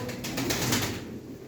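Male pigeons kept for breeding and flying call in a close, steady stream of soft cooing with a faint rustle of wings, no voices over them.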